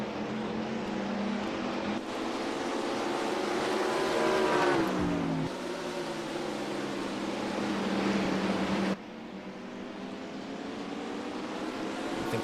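Several race cars in a NASCAR Racing 2003 (NR2003) ARCA Series race at Finger Lakes roar together down the straightaway, their engine notes droning and sweeping in pitch as they pass, loud and continuous.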